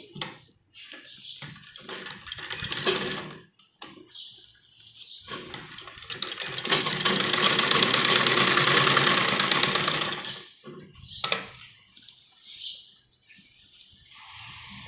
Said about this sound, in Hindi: कपड़े को घुमाते हुए अपने गले को अंदर की तरफ फोल्ड करेंगे, स्टोन से बचाते हुए हम सिलाई लगाएंगे।